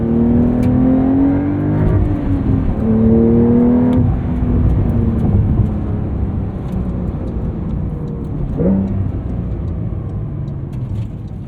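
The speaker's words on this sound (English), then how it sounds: "Porsche's auto blip system is certainly one of the best for auto rev matching." A 2023 Porsche 911 Carrera T flat-six engine howls loud and near from inside the car, rising and falling through several sharp revs and quick blips as it rev-matches on downshifts.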